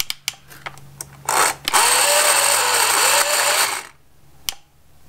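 A Ryobi battery electric chainsaw starts with a few clicks, then its motor whirs loudly for about two seconds, its pitch wavering, before it winds down and stops, followed by a single sharp click.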